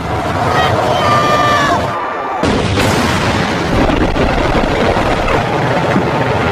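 A heavy bomb explosion in a war film hits the ground as a deep roaring boom cuts through loud battle noise and crowd chaos, with a brief sudden dropout before the rumbling blast continues.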